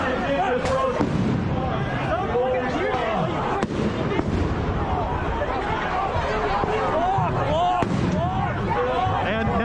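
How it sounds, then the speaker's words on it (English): Flashbang grenades burst at a Black Lives Matter street protest in Seattle, a few sharp bangs cutting through dense, loud crowd noise and shouting throughout. "the flashbangs are going off behind me, and I'm being pushed into them"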